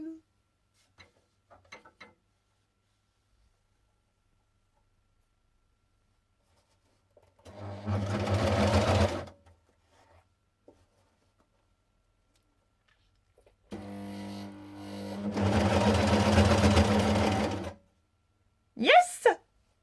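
A sewing machine hems a T-shirt sleeve in two separate bursts of close mechanical whirring, with silence between them and a brief sharp sound at the end.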